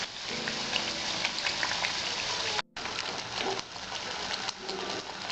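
Flour khaja pastries deep-frying in oil over low heat, a dense, steady bubbling crackle that runs continuously and close up, broken once by a brief near-silent gap midway.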